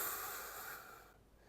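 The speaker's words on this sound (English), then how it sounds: "Breathing in, holding the alignment." A steady inhalation during a posture exercise: one long, soft, airy breath in, close and fairly loud, fading toward the end with no talking over it.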